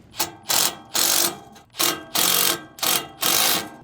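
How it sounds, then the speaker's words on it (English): A T-handle wrench ratchets in quick bursts while tightening 1/4-inch bolts on a side ladder bracket for a Mercedes Sprinter, about seven loud clicking spells separated by short pauses. "we'll use our T-handle or our 4mm to tighten them up."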